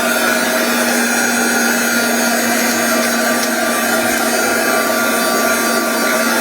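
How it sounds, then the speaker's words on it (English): A handheld dryer blows steadily and loudly on a freshly painted craft frame, a continuous whirring hum with a steady tone that runs unbroken from start to finish, with no talking. "I'm going to use the dryer for a second."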